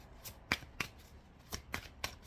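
Tarot cards shuffled and laid out for a reading, a run of quick crisp riffling snaps in irregular bursts, close and fairly quiet with no talk over them.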